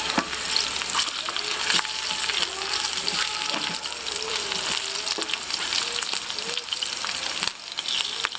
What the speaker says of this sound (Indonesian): Nah ini burungnya kita goreng.